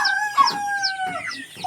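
Chickens and chicks on a farm in the Philippines cluck and chirp close by, with repeated short calls and thin, steady peeping over one another. No one speaks.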